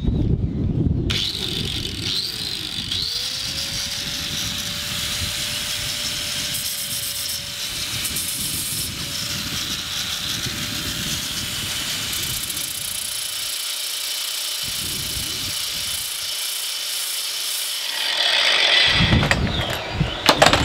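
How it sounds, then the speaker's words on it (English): Angle grinder rounding off the end of a small part spun in a power drill used as a makeshift lathe, a steady whirring grind held for most of the stretch, broken by brief drops and restarts near the end. "round it off with the grinder as I go"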